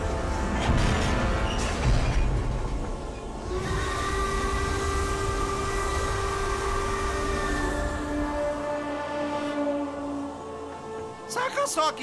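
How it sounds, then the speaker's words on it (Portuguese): Ghost train from a Scooby-Doo cartoon, a steady rumbling run with a sustained eerie whistle-like tone held over several seconds, loud and close, with cartoon voices and music around it. "Saca só que trem mais tenebroso."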